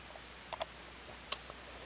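A computer mouse clicks a few times, one quick double click and then a single sharp click with a faint tick after it, close and distinct against a quiet room.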